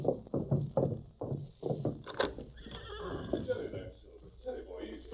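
Radio-drama effect of a horse in an old western: rhythmic clip-clopping hooves, then a loud, close whinny that trails off into softer movement.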